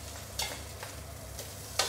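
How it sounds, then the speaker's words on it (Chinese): Food being pan-fried for a poon choi dish sizzles softly in a pan, a faint continuous crackle broken by a few short, sharp scrapes of stirring. "都要煎烧它"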